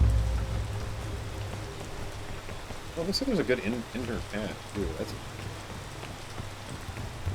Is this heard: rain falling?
yes